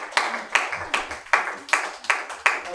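A hackathon audience claps for the champions in slow, loosely unified beats, about seven distinct claps each ringing briefly in a reverberant room.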